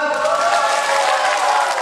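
Loud, dense applause from a crowd at an assembly, mixed with cheering, continuous and close throughout.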